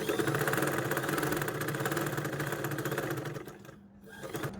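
A sewing machine runs steadily, stitching fabric for an umbrella dress, with a continuous mechanical whir and rapid rhythmic needle chatter that slows briefly near the end before picking up again.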